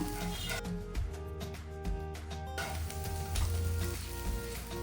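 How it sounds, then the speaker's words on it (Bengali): Moringa leaf fritters frying in hot oil, turned over several times as they cook, give a steady, moderate sizzle that runs through the whole stretch with a constant background layer beneath it. "বড়াগুলোকে আমি তিন চারবার উল্টে পাল্টে ভেজে নিয়েছি"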